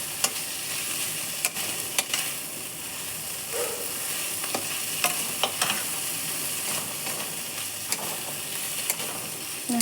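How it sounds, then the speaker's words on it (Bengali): A spatula stirs lata fish mash in a pan as the last water cooks off, giving a steady low sizzle broken by scattered scraping taps. "সম্পূর্ণ জলটা শুকিয়ে গেছে একটু নাড়াচাড়া করে নামিয়ে নেব"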